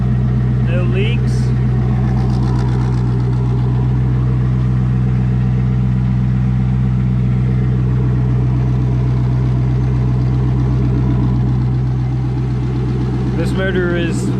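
Twin turbo C5 Corvette engine idling close by, a loud steady deep rumble that holds throughout, with a voice talking faintly over it.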